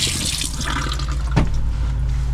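Running water drains from the faucet into the drain of a van's plumbing system, a steady close gurgling rush with a brief louder splash partway through.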